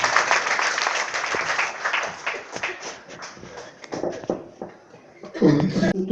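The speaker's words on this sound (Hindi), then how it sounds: "तालियों से रोशनी बहन का स्वागत करें।" An audience at a spiritual programme in a residential colony claps to welcome a speaker, with scattered uneven applause that thins out midway and swells again at the end. Voices murmur faintly underneath.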